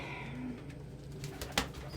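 Pigeons coo softly nearby, low calls over quiet ambient noise, with a few short sharp clicks or taps toward the end.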